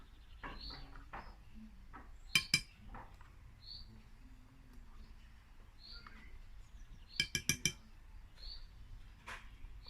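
A spoon clinks against a bowl while batter is mixed with yogurt, giving two short bursts of quick bright taps amid quiet background and faint birdsong.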